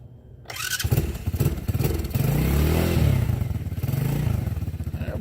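A Chinese ATV engine starts and settles into a steady idle while warming up, a loud close chugging rumble with a brief rise in revs, running continuously with no talking.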